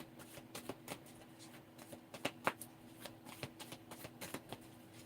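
Tarot cards being shuffled by hand, a quiet, steady run of crisp riffling snaps and slaps repeating in quick rhythm, with no voice over it.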